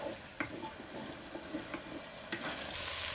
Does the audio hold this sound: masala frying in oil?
yes